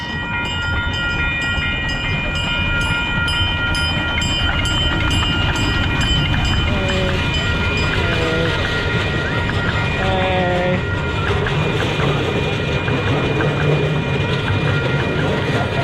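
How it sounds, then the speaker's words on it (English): A train rumbles steadily past nearby at McCormick-Stillman Railroad Park in Scottsdale, a continuous loud roar of rail noise with high tonal squeals and clatter throughout. "here comes the train going by."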